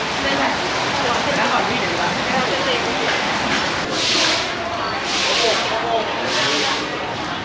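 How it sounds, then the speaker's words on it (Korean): Steady rain hisses and patters continuously while people talk over it nearby. "빗소리를 들으면서 비 오는 날"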